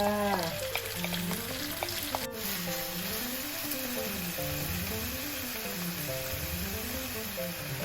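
Minced pork stir-frying in a pan for an Isan-style home lasagna, a steady close sizzle with no talk, while a wavering tone like a fan or motor hum rises and falls underneath.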